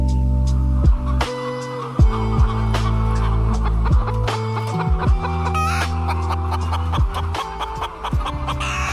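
Chickens on an egg farm in India cluck loudly and continuously, many birds layered close together with sharp overlapping calls over a steady droning background hum.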